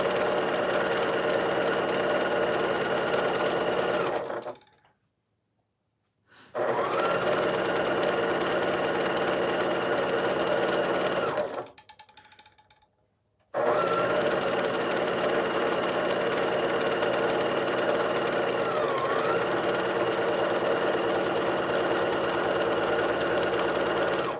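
A sewing machine with a large thread spool stitches a quilt in long continuous runs, a loud, even mechanical whir that stops twice for brief silences before starting again. No one talks.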